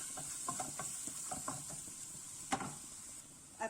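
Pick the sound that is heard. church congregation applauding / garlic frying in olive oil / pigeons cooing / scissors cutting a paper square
garlic frying in olive oil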